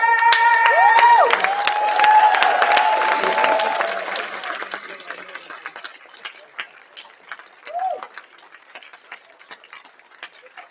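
A banquet audience bursts into loud, dense clapping and cheering mixed with whistles, then thins to scattered claps and a few trailing whoops as the noise dies away.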